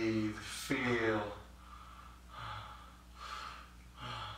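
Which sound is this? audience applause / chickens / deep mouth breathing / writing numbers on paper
deep mouth breathing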